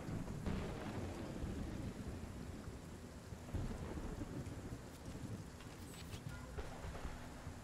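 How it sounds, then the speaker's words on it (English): A thunderstorm in the video game Stronghold: Warlords, with steady heavy rain and low rumbling thunder that swells at times. The storm is a dense, continuous wash of noise throughout. "Storm damage to a building?"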